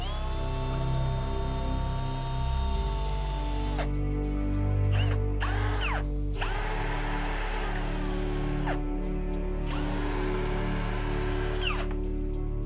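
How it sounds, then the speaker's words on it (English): A power drill with a large bit backs out big screws holding a window frame during wall demolition, whining loudly in repeated bursts with brief pauses and pitch changes as each screw releases. "we take the drill with the relevant bit, obviously check the bit fits because these are quite big screws"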